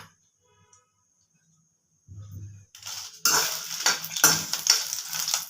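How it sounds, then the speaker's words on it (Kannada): Six or seven Byadgi red chillies drop into a spoon of hot ghee and start to fry, a soft sizzle building into a loud, crackling spatter with clinks of a pan and spoon, after a quiet start. "ತುಪ್ಪ ಕಾದಿದೆ. ಇವಾಗ ಬ್ಯಾಡಗಿ ಮೆಣಸಿನ್ಕಾಯಿ ಹಾಕೊಂತ ಇದ್ದೀನಿ"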